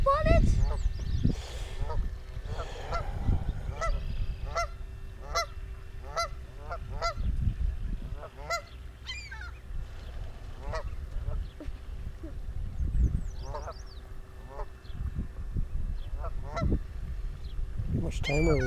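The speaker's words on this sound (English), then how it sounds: "Why is the seagull so concerned with it?" A seagull calls repeatedly near a remote control boat, giving harsh, honking squawks in irregular bursts throughout. People talk underneath, and a low steady hum runs beneath everything.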